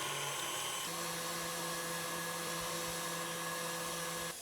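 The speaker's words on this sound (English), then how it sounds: "Sugar, butter is melted, chocolate is melting, and these are gonna be whisked until they're frothy." Sugar, melted butter and chocolate being whisked until frothy, most likely with an electric mixer, giving a steady, loud motor whir that holds for the whole stretch and stops abruptly at the end.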